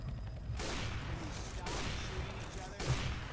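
Gunfire in the co-op zombie shooter Left 4 Dead 2 on the Dark Carnival campaign, with rapid bursts of shots in dense volleys as players talk over the action.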